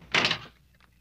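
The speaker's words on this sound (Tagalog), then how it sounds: "Isara itong pintuan, ha?" A door swings shut with a single close, breathy thud that fades quickly, followed by a faint soft knock, with no voices.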